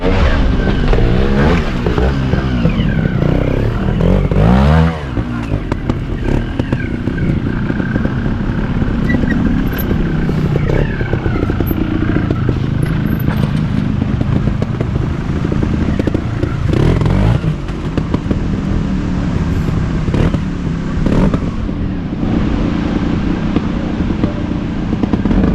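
Trials motorcycle at a club event at Hooton Lodge, Barnsley, ridden over the easy beginner's route, its engine loud and close with repeated blips and revs plus clattering over rough ground throughout.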